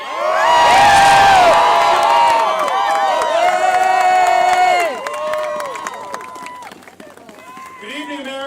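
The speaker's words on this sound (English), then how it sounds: "So please put your hands together for Senator Chris Murphy" An outdoor rally crowd on the National Mall erupts in loud cheering, whoops and applause that swell, then fade. Shouting voices rise over the noise and a speaker begins talking near the end.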